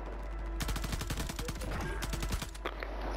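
Rapid bursts of automatic gunfire in Call of Duty Warzone, a loud, dense rattle of repeated shots lasting a few seconds with a few game sounds mixed in.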